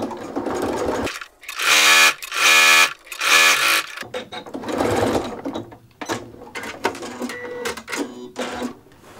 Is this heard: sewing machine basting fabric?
yes